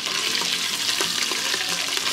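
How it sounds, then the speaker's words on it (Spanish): Chorizo with its casing removed fries in a pan for frijoles charros, giving a steady, close crackling sizzle with a few sharper pops and scrapes of stirring throughout. "Ya que se frío el chorizo, agregamos el tocino"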